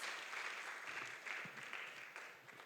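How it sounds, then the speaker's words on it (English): A round of applause at a workshop, a steady wash of clapping from a room of people that stays even and fairly faint throughout. "Please, let's give her another round of applause."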